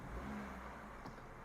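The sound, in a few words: abnormal noise from a Jeep car engine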